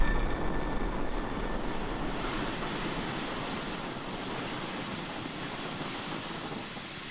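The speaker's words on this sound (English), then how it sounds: "And liftoff of Falcon 9." A SpaceX Falcon 9 rocket lifting off from SLC-4E at Vandenberg Space Force Base produces a broad, rumbling roar, continuous and slowly fading as it climbs away.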